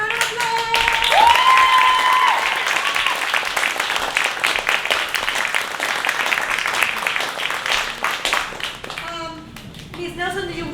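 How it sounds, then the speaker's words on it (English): Audience applause and clapping after a middle school production of the musical You're A Good Man Charlie Brown, loud and steady for several seconds and then tapering off as voices start talking near the end. "Let's give another round of applause."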